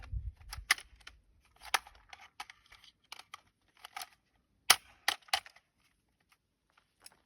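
Rifle being closed and a fresh magazine inserted, a series of sharp metallic clicks and clacks of the action and magazine, scattered irregular taps at close range with quiet gaps between.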